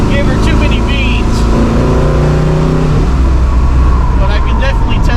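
A 1993 GMC Typhoon drives on a slick, wet road, its engine droning loud and close with a rising, shifting tone, while people talk over it inside the cabin.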